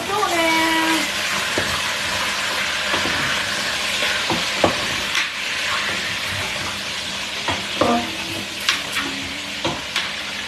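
Meat cooking in a pan is stirred in irregular scrapes and knocks over a steady frying sizzle, close by, while people talk in the background.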